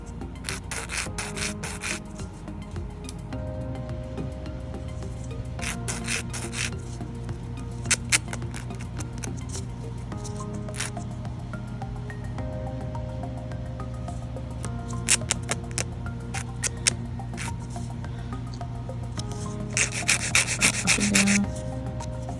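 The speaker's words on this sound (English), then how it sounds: "And I'm going to file the top." A nail file rasps steadily across fingernails while shaping the tips and sides into coffin and tapered square shapes, with close, continuous scratchy strokes, short pauses and brief bursts of faster filing, and no talking.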